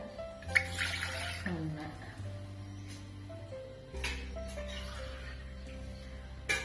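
Water pours into a pressure cooker in two bursts, splashing and gurgling while a steady hum and tonal kitchen noise sound underneath, fairly quiet overall.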